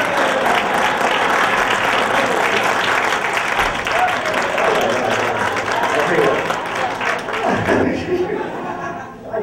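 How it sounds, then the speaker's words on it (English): Loud, sustained applause from a theater audience for a stage show guest, dense clapping filling the room with scattered chuckles and crowd chatter mixed in, tapering off near the end. "Give him a big round of applause"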